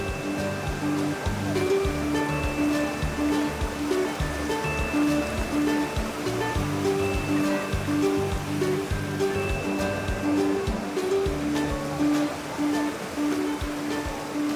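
Sea waves on the beach at Cox's Bazar at night, a continuous rushing wash of surf, mixed with a crowd of people talking and background music.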